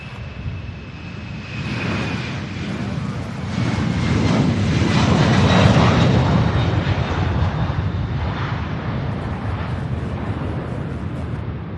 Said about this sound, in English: What a beautiful takeoff, huh?